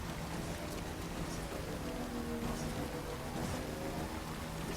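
Steady, dense rain hiss from the video game Death Stranding, a constant wash of falling rain with faint low rumbles underneath, even in level and uninterrupted.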